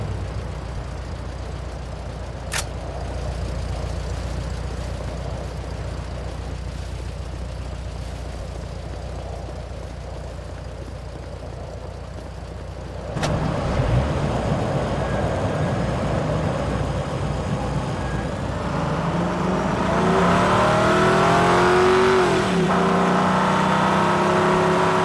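A vehicle in the video game Haze idles with a low steady rumble, then its engine starts up and accelerates, rising in pitch and volume into a revving whine toward the end.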